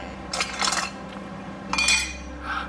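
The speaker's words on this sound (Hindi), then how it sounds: "मेरा खाना हो गया, अब मैं बर्तन साफ कर लेती हूँ।" Dishes are washed after a meal in a tent setting, with two bursts of clinking cutlery and knocking pots and pans, close by, separated by quieter running background noise.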